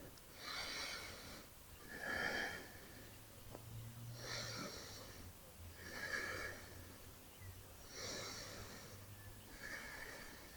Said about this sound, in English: join me for 5 deep breaths